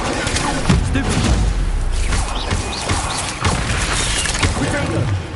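Stupefy stun spell cast during spider combat in Hogwarts Legacy, a dense run of crackling magical impacts, thuds and crashes over a busy game mix, with speech-like sounds mixed in.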